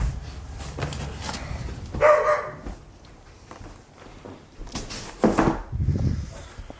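Outdoors, a neighbor's dog gives a few moderately loud barks, spaced several seconds apart, over faint background noise and some shuffling.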